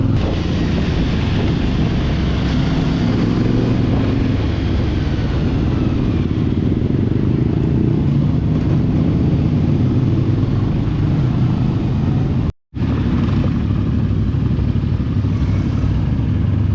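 A CFMOTO 450MT motorcycle engine drones continuously while crossing a river off-road, a loud steady rumble with wind buffeting and splashing noise throughout and a brief dropout near the end.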